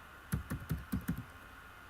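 Several clicking keystrokes on a computer keyboard while Java code is typed, about six taps in quick uneven succession, close and fairly crisp against a quiet background with no talk.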